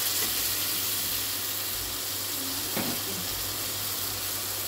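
Chopped tomatoes going into masala frying in a pan for mutton kofta curry give a steady, close, broadband sizzling hiss, with a single brief clink partway through.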